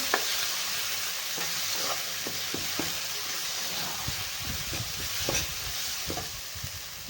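Masala for stuffed brinjal, with peanuts, sizzles steadily in a pan while a spoon stirs and scrapes it in scattered soft knocks, close and fairly quiet, with no talking.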